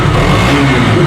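A 2022 KTM RC 200 sport motorcycle's single-cylinder engine revs loudly up close, a dense, steady roar filling the short moment with no talk over it.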